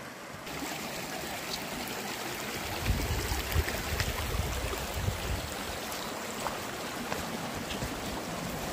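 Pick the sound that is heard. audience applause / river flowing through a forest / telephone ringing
river flowing through a forest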